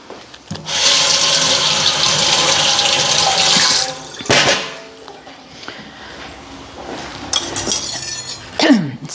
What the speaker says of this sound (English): I'm just going to wash the lemon.